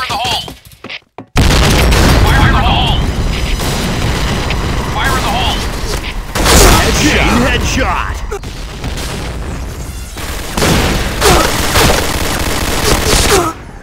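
Grenade blasts and gunfire in the online shooter Point Blank, with loud booming explosions and rapid bursts of shots filling the scene, interrupted by game voice callouts shouting over the action.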